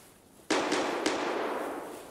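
A long-range rifle shot in Escape from Tarkov cracks once with a loud burst, followed by a second sharp report and a long rolling tail that fades slowly.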